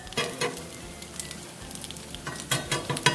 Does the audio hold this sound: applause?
no